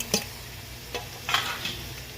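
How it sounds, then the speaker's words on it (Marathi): Red chili and peanuts frying in oil with a soft sizzle, broken by a few sharp spoon clicks and stirring scrapes against the pan, close and fairly quiet. "असे चांगले तेलामध्ये फ्राय होऊ द्यायचे"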